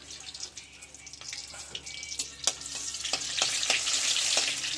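Bay leaves and three dried red chillies spit and crackle as they hit hot oil in a kadai, a crisp sizzle with scattered pops that builds louder toward the end.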